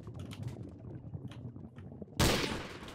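A sudden loud gunshot burst erupts in a Garry's Mod Trouble in Terrorist Town match, cutting in sharply after a stretch of soft clicking and muffled background game noise.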